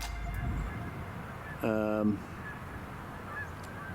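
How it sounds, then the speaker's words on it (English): A single short goose honk rings out at a distance over faint outdoor background noise at the Brattleboro inlets in Vermont. "Oh, here come the geese."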